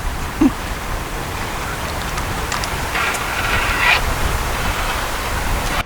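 Steady rain falls outdoors during a fishing trip, a dense even hiss that holds for the whole stretch with no voices, broken only by a faint tap near the start.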